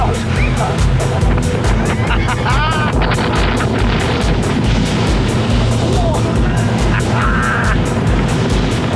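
A motorboat engine roars steadily as it is throttled up on open water with waves, loud and close with heavy wind buffeting the microphone and a few voices speaking over it.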